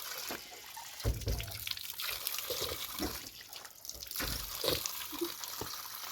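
Running water from a tap at a mountain house trickles and splashes steadily while someone drinks from it, with small drips and gurgles. The sound is close and fairly quiet, with no talking.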